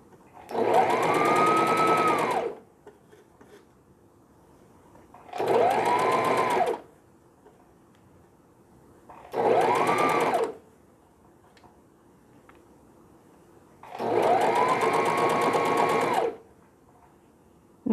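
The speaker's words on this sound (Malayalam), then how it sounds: "അപ്പോൾ അതിനിപ്പോൾ സ്റ്റിച്ച് ചെയ്യണം." Sewing machine stitching the ribbed band of a child's Santa hat, four bursts of fast whirring stitching a couple of seconds each separated by quiet pauses, close and steady.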